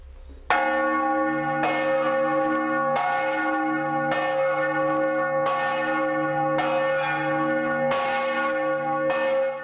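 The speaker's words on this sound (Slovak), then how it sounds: "na jej druhom poschodí sa nachádzajú dva slávne zvony" Church bells ring in Žigmund's tower in Košice, loud and close, with about seven strikes at irregular intervals, each leaving a long, rich, humming resonance that overlaps the next.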